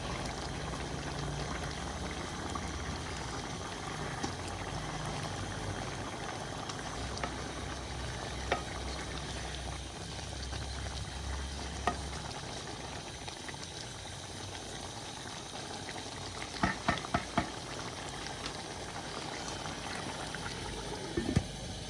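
A pot of potato and cauliflower curry boils on a gas stove in a village kitchen, with continuous close bubbling and simmering and a few faint clinks, no talking.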